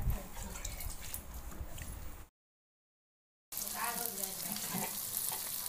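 Fulaura (dahibara) batter dumplings deep frying in oil, heard as a steady, close sizzle and bubbling with light stirring. The sound cuts to a gap of silence partway through, then the sizzling resumes.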